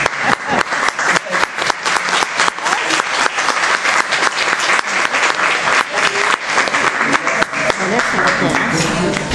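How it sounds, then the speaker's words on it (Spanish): An audience gives loud, dense applause to welcome an author, continuous close clapping with a few voices mixed in, sustained throughout. "lo vamos a felicitar, a recibir con un gran aplauso"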